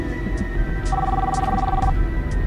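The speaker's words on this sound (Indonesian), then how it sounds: "Itu ada telepon kenapa nggak diangkat" A telephone rings once in a steady electronic tone, about a second long, over room noise and faint background sounds during an Indonesian reality show.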